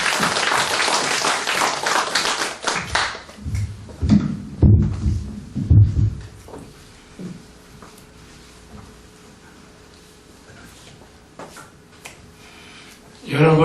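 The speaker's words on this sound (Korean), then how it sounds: "박수로 환영해 주십시오" A church congregation applauding during a Thanksgiving Sunday service, a burst of clapping at the start that thins into scattered claps and room noise, with a final loud clap or thump at the end.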